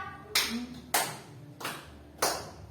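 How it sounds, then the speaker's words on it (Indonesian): Four sharp hand claps in a steady rhythm from a group in a classroom positive-discipline exercise, each clap loud and close with a short ringing tail and quiet gaps between. "Oke, tepuk empat."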